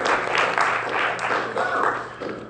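Audience clapping at a city council meeting, a burst of scattered applause from the room that swells and fades in waves, with a voice talking faintly underneath.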